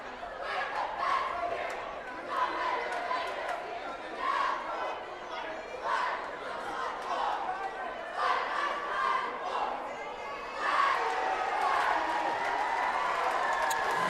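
Crowd noise at a high school boys basketball game between Ellwood City and Beaver Falls: steady gym chatter and cheering from the stands, rising in swells, with announcers talking over it.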